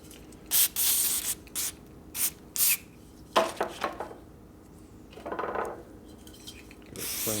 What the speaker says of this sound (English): I'll go hit it with a brake clean now